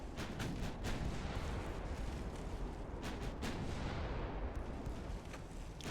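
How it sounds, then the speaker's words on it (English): Long-range naval shell fire in Ultimate Admiral Dreadnoughts, heavy 17-inch guns in a 1930 German campaign battle, a dense continuous rumble broken by several sharp booming reports. "Long range shell fire."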